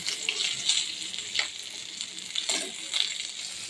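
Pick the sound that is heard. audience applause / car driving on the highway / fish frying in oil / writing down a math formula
fish frying in oil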